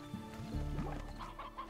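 Chickens cluck in the video game Slime Rancher, a quick cluster of soft, close bawking notes with no voices over them.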